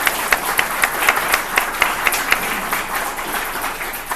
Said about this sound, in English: So I would also like to give him a huge round of applause.